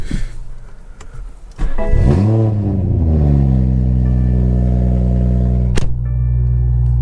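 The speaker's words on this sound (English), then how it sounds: "Let me get a little startup for y'all." A BMW 340i starting up: a brief starter crank, then the engine catches with a loud rev flare that settles into a steady, close idle rumble.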